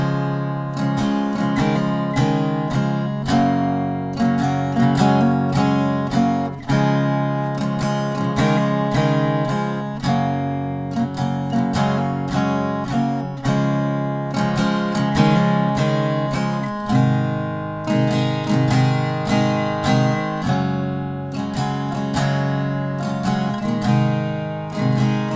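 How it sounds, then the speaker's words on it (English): Steady acoustic guitar strumming through the verse chords of The 1975's Be My Mistake, a continuous close rhythmic pattern of bright strokes with occasional chord changes and no voice. "So in total, verse number 2, which is also the same as verse 3, sounds like this."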